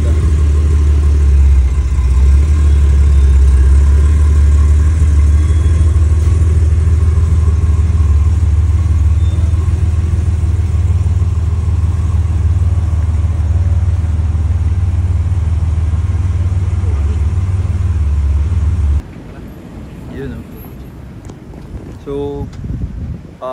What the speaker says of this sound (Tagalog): Turbo. Sobrang ganda. Idle, grabe ang ganda.